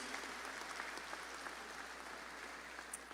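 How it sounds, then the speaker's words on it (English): A round of applause at a high school graduation ceremony, faint steady clapping from a distant crowd, even and continuous throughout. "Please give them a round of applause for the work they have done over the years."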